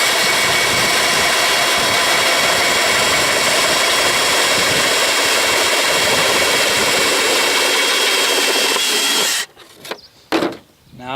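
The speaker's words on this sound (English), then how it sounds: "Now I've got all 4 holes drilled." A power drill bores holes in plastic pipe elbows for a quail feeder, a loud, steady, close whine lasting about nine seconds before stopping, followed by a few brief handling bumps.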